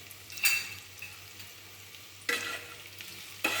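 A bread pakoda mixture is stirred as salt, chili and garam masala are worked in, giving soft scraping and rustling strokes, with three louder bursts of stirring spaced over a few seconds, quiet overall and no speech.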